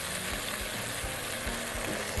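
Tomato sauce for an okra stew sizzles and bubbles steadily in a pan as it is stirred, with soft scraping strokes throughout and no talking.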